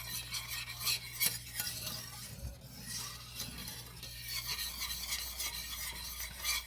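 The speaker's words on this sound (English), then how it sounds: "Now, make sure you keep stirring. Don't stop stirring." A utensil stirs beef gravy in a pan, a soft, steady scraping and bubbling hiss with a low hum underneath and a couple of faint clinks.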